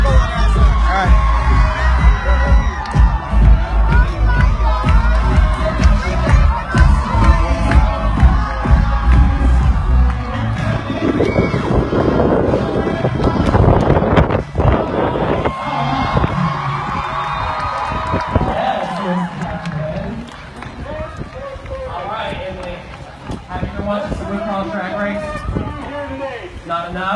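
Dense crowd noise at a Pride street event with a confrontation, loud and continuous: shouting voices, whoops and cheering mix with overlapping talk, with a few sharp bangs and bursts throughout.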